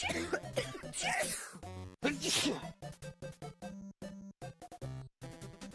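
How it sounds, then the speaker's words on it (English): Repeated coughs from an infected character in a plague game, several harsh bursts in quick succession followed by choppy game effects, fairly loud and close with no talk over them. "Why is this still coughing?"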